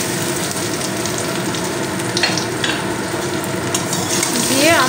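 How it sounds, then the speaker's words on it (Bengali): Cut raw mango pieces for a sweet-sour-spicy pickle sizzle loudly in a hot pan with oil and spices while being stirred, a steady dense crackle with occasional scraping of the utensil, close up and without talk. "দিয়ে আমটা আমি নাড়াচাড়া করবো এবারে"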